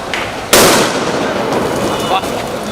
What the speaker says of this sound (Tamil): பட்டாசு முடிஞ்சு